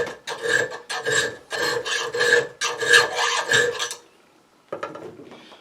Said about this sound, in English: Doesn't fit, so I'm going to have to file.